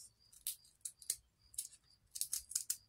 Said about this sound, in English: So I'm going to cut the end off of another one.